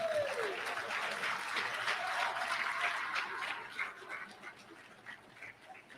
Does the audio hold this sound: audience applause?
yes